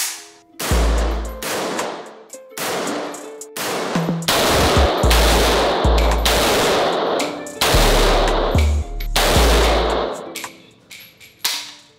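Rifle fire at an indoor shooting range, with bursts of loud, close shots in rapid succession separated by brief pauses, each volley ringing with sharp reports.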